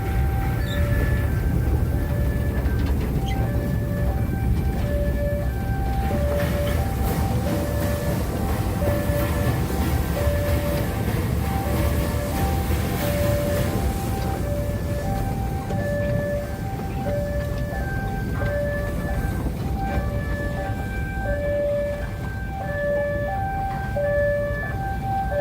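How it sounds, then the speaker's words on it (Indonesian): A fireless steam locomotive at the Pagotan sugar mill rail yard moves forward to push loaded sugar-cane carts, with a steady loud rumbling churn and repeated high tonal squeals or whistle-like notes throughout. "setelah wesel digeser, lokomotif maju lagi untuk mendorong lori bermuatan yang berada di jalur"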